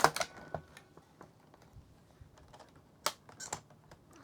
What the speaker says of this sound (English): Let's just see if that keyboard comes out.